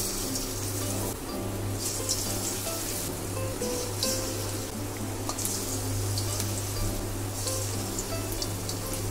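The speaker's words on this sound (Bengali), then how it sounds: "এবার আমরা একে একে ম্যারিনেট করা চিকেন তেলের মধ্যে দিয়ে" Marinated chicken pieces sizzle in hot oil in a wok, a steady crackling fry with small pops and occasional stirring scrapes, close up and without speech.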